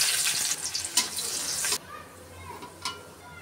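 Onion dropped into hot oil already seasoned with whole cumin seeds and dried red chilies, sizzling loudly for under two seconds, then settling to a softer crackle with a brief clink near the end.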